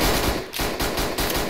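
Rapid bursts of gunfire crack in quick succession in the game Garry's Mod, loud and close, with a brief gap before the shots resume.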